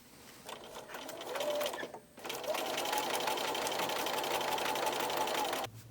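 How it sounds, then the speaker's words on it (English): A sewing machine stitching along the top edge of hem tape on a pair of pants, running in a steady close whir that stops briefly and then continues. "now I will sew along the top edge of the hem tape and make a new hem"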